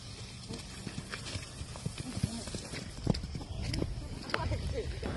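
A donkey walking outdoors, its hooves clip-clopping in an irregular rhythm of soft knocks against a rustling, breezy background, fairly faint with a person talking now and then.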